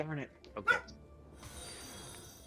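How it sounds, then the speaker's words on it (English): Dogs yip and whimper indoors in short bursts near the start, alongside a woman's speech, followed by quieter background noise. "I'm sorry if you hear my dogs barking in the background."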